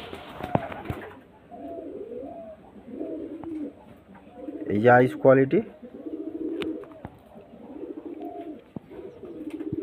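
Pigeons coo repeatedly at close range, with one louder burst of calls near the middle, while someone speaks over them throughout.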